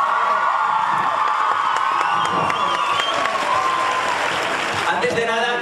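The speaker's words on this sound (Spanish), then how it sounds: "Vamos a demostrarlo otra vez con un aplauso bien fuerte," A large crowd at a Barcelona fan event for Breaking Dawn Part 1 claps loudly and steadily, with cheers, whoops and shouting voices mixed into the applause.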